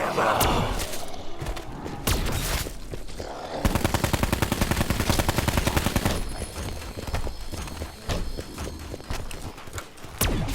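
Rapid bursts of gunfire crackle through a busy Call of Duty: Black Ops 4 Zombies soundscape, with a dense stretch of fast automatic shots in the middle and scattered hoofbeat-like thuds.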